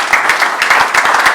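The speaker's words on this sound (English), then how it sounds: "can we give them a round of applause?" An audience at a large celebration at a palace in Arochukwu breaks into brisk applause, with dense, rapid hand claps rising close and loud for a brief moment.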